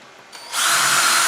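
A power drill bores a hole into a plastic mushroom-growing container filled with spent coffee grounds, starting with a brief quieter whir, then a loud steady high grinding whine once the bit bites, close up.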